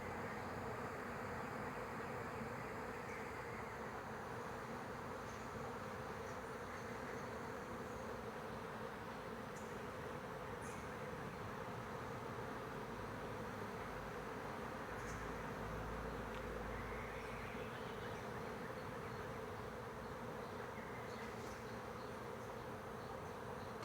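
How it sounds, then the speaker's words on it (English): A dense, steady hum from a large colony of over 300 bees in a tree above garden netting, a constant faint drone that holds for the whole stretch with no talk. "That is the sound of over 300 bees in a tree"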